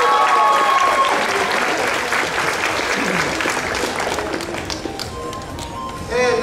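Loud, dense applause from a convention crowd at a costume contest, sustained throughout with scattered whoops, easing slightly midway before swelling again at the end.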